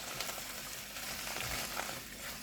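Cheesesteak filling with soy sauce stirred in a hot pan for a Philly cheesesteak, a steady sizzle with soft scraping throughout, fairly quiet and unbroken.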